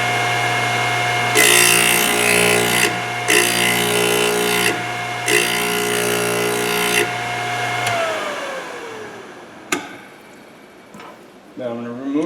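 Thorvie AV-40 sharpening machine grinding a cutter bit makes three steady, whining passes separated by short gaps. The motor then winds down, followed by a few clicks and handling knocks.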